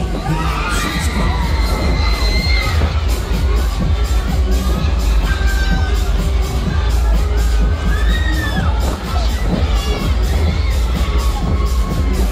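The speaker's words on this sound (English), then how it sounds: "And then we scream." Riders scream and shout on the Fighter fairground ride at Goose Fair in Nottingham, with loud, continuous crowd yelling and whoops rising over a rumbling ride and fair din.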